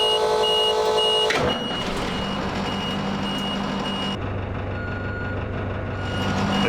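A warning alarm inside a vehicle beeps rapidly and regularly for about a second over the running engine, then stops sharply, leaving a low engine rumble and faint tonal hum.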